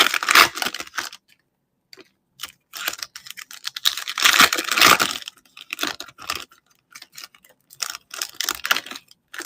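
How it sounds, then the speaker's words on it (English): Someone types on a computer keyboard in quick bursts of close, crisp key clicks separated by short pauses, with no talking. "I think if you just start typing Marcos C."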